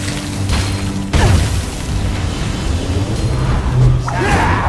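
A spell explosion in the fantasy game Lichdom: Battlemage bursts with a sudden boom, followed by rumbling, mechanical in-game noise and further effects.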